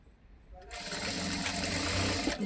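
A sewing machine stitching the side slit of a readymade top starts up after a brief quiet moment and runs in a steady, close whirring hum to the end.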